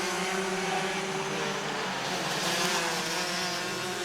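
DD2 and Masters class racing karts circulating a track at a regional kart championship, a continuous buzzing blend of several two-stroke engines revving near and far with no pauses.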